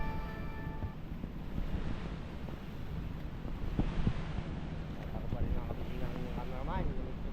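Ocean waves out at sea on the Pacific, a steady wash of surf heard from a boat with heavy wind buffeting the microphone, and voices talking over it.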